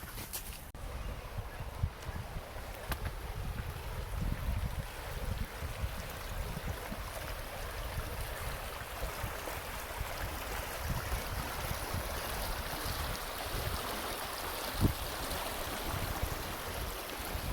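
A river flows steadily in the background, a soft continuous rush of water with a few faint splashes and knocks while a dog swims nearby.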